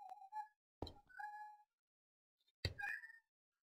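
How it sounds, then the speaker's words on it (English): A cat meows repeatedly in the background during a Minecraft play session, a few separate close, strained meows with quiet gaps between them. "Can you please stop meowing, cat?"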